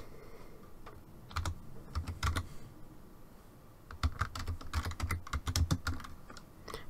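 Typing on a computer keyboard during digital cardmaking, with bursts of close, crisp key clicks in irregular runs separated by a quiet pause.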